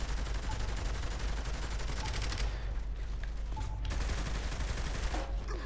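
Dense, continuous gunfire from the video game Saints Row The Third, a loud sustained barrage of shots running through the clip with brief dips, and a voice occasionally heard beneath it.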